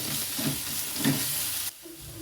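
Garlic paste fries in a pan with a steady close sizzle and a stirring scrape or two, then the hiss drops away abruptly near the end.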